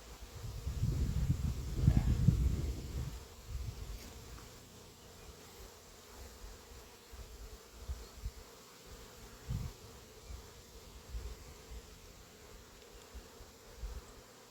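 Honeybees buzz close by around a hive frame during queen rearing, a low droning hum that swells loudly at first, then settles into a softer, steady drone with occasional louder passes.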